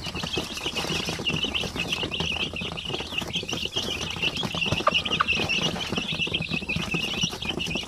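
A farm setting with a mother hen and more than a hundred chicks, dense high peeping and chirping with occasional soft clucks, moderately loud and continuous with a light pattering in the background.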